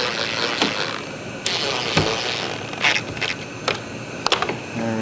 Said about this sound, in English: Use our wrench.